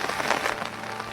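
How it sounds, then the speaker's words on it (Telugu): Heavy rain pouring down in a village, a dense steady hiss of falling water and drops on surfaces, brief and close. "వర్షం అయితే చాలా గట్టిగా పడుతుంది అనమాట"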